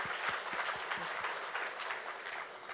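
An audience applauds at a university awards gala in Gatineau, a dense, even patter of many clapping hands sustained throughout, moderately distant and without voices.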